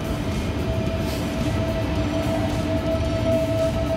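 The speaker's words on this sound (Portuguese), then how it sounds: "e o comboio continua para Lisboa" Train noise in Portugal, a rail service at Coimbra continuing on toward Lisbon: a steady, loud low rumble of moving carriages with a faint whining tone running through, constant throughout with no voices.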